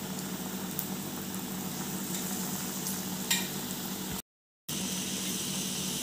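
Oil frying on a gas flame turned to low while making Berhampur-style supulu, a steady close hiss with faint stirring scrapes, briefly cut out near the end before resuming.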